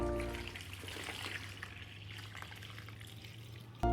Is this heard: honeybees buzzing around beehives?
no